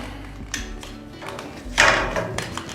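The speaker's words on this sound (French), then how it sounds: "On calibre, on chanfreine." A copper plumbing pipe is sized and chamfered by hand, giving a few short metallic scrapes and taps with quiet gaps between, and no voices.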